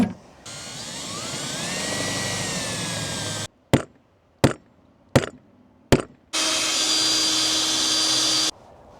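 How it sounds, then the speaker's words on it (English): A power drill whirs steadily for a few seconds, then several short sharp bursts follow, before another long continuous whir from the motor, during an RV kitchen renovation with MDF panels. "Let me get this drill going."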